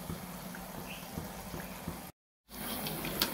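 Neyyappam batter poured into hot ghee, bubbling and frying steadily in a low, continuous sizzle, broken by a brief silent gap before the frying sound resumes.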